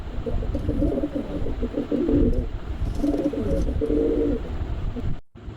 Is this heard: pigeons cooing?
yes